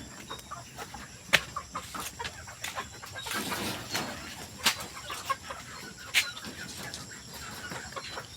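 Chickens on a farm cluck and call softly while eating, with scattered sharper squawks and a brief burst of wing flapping, no talking.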